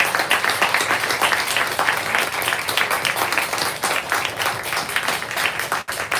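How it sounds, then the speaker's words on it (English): Audience applause at a poetry reading event, a steady dense roar of many hands clapping close by for the full stretch, with no voices over it. "Let's give one more round of applause for yourselves and these wonderful poets."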